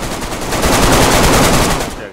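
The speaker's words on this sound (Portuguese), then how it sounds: "Tá ouvindo o barulho do tiro, Quinto?" Loud continuous automatic gunfire in the survival game DayZ, a dense rapid burst of shots close up that fades at the end.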